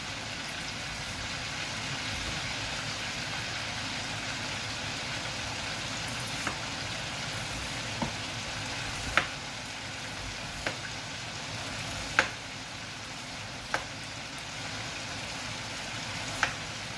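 Continuous low hiss of cabbage frying in a pan, fairly quiet and steady, with a few sharp pops and crackles scattered through.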